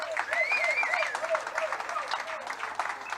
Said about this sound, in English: Let's give everybody a special round of applause